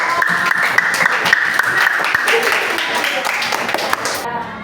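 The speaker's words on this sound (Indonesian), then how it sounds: "tepuk tangan dong buat kelompok" A class claps for a student group: a lively round of clapping with sharp individual claps, fairly close, under voices that fade near the end.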